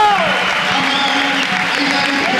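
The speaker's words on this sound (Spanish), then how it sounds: "como se aplaude a Caudillo de Riozola" A crowd applauding at a handball match, with steady, dense clapping throughout, mixed with background crowd noise.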